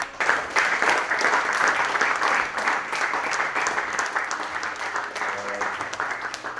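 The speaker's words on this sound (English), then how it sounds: "So round of applause for that." Applause from a small group of teammates in a dressing room, a steady patter of many hands that holds for several seconds and slowly fades, with a few low voices chatting underneath.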